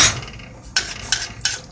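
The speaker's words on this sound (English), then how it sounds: "Put about 2 teaspoons here, or whatever's in here. There it goes, right there. Just stir that around." A utensil stirs tomato paste in a cooking pot, giving three sharp metallic scrapes and clinks close up over a low background hum.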